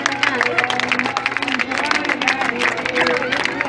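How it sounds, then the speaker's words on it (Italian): An airshow crowd claps and cheers in a continuous, busy wash of applause, with voices talking over it. "Un applauso in pieno del buono."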